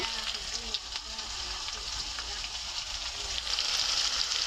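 Chickpeas fry in a pan of oil for an iftar meal, a soft continuous sizzle and crackle under a low, close background hum that swells slightly toward the end.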